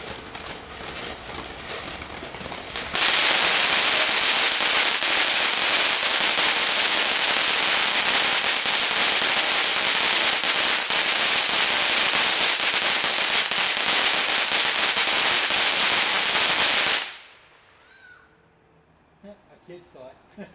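New Year 2021 fireworks set off nearby: a dense, loud rapid crackle of exploding firecrackers rattles on for about fourteen seconds, then cuts out, leaving quiet air with faint distant pops and a bird call.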